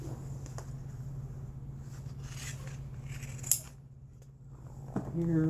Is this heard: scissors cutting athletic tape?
yes